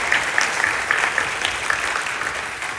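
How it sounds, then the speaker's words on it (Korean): A congregation claps during a worship service at Incheon Full Gospel Church, dense, lively applause that holds steady and fades slightly at the end. "우리 박수로 격려해 주시죠."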